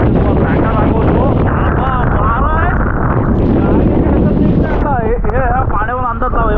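Strong wind roars across the microphone beside a flooded shore at Awas-Mandwa near Alibaug, loud and continuous, with waves churning underneath and someone talking over it.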